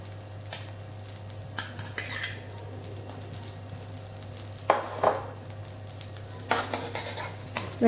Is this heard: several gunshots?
no